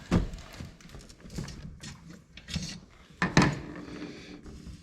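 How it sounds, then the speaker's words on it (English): Pulling the pin on the axis swivel of a 1/5 scale model stand gives close, sharp knocks and clicks with short rubbing, scraping strokes between them, the loudest pair of hits near the end. "Gotta pull the pin on the axis swivel."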